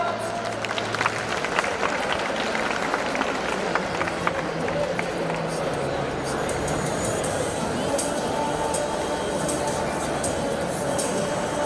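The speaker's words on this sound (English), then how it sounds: "please give a big round of applause to everyone" A large crowd at a one-day career enhancement programme keeps up a steady round of applause, with scattered sharp claps and murmuring over continuous clapping.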